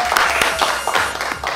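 A studio audience on a Thai talk show breaks into brief, loud applause with sharp individual claps standing out.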